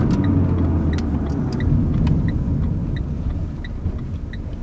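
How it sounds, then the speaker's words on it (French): A driving-school car idles at a stop sign and pulls away in first gear, a low steady engine rumble heard from inside the cabin with faint ticking over it. "Je vais mettre ma première pour démarrer pour faciliter son démarrage, pour avoir plus de puissance."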